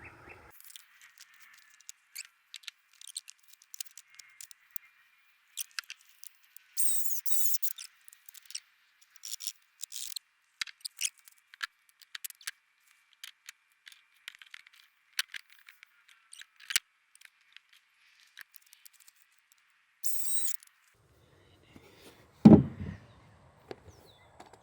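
A pocket knife cutting material for a chicken coop roof, with sparse, irregular scraping and slicing strokes in short bursts separated by silence, close and fairly quiet, plus one louder knock near the end.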